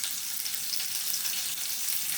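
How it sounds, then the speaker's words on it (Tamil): Garlic sautéing in a pan gives a steady, close, hissing sizzle that holds evenly for the whole stretch, with no voices over it. "உள்ளி, இதை நல்லா வதக்க விடவும்."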